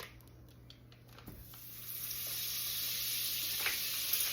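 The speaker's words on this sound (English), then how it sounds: "In the same pan, you want to throw in 3 tablespoons of butter." Butter sizzling in a hot pan used for searing steak, a steady frying hiss that swells and grows louder as it melts, with no talking.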